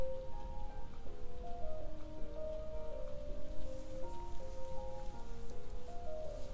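Steady rain hiss in the video game Trails of Cold Steel, a soft continuous wash laid under gentle melodic music, with no talking.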